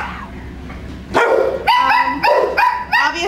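Several dogs barking inside the dog runs of an animal shelter, loud close overlapping barks and yips in quick irregular bursts over a reverberant room hum, with no talk.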